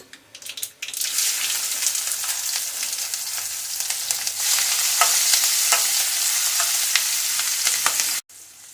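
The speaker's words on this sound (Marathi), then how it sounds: "आता आपण हे लसूण आणि मिरची घालून घेऊया" Garlic and chili sizzle loudly in hot oil over a mustard seed, cumin and asafoetida tempering in a home kitchen. The frying is steady and continuous with stirring scrapes, and no one talks.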